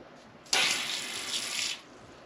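A camper van tap runs water into a small sink in one steady burst of just over a second, starting abruptly and cutting off, close and clear with no talk.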